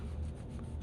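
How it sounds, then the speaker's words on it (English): A finger rubs filler into wormholes in wood, making a short, soft, dull rubbing sound that is close and quiet, with no voice. "I rub it with my finger and get it rubbed in"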